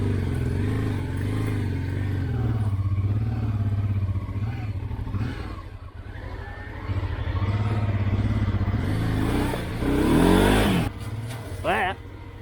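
A motorcycle ridden through mud on an Alpine route, its engine droning steadily and revving up near the end, with clattering and voices talking over it.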